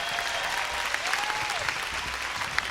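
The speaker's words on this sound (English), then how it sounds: "keep that applause going" Audience applause at a cruise ship welcome aboard show on the Carnival Liberty, steady and moderately distant, with a faint tonal sweep from the stage sound under the clapping.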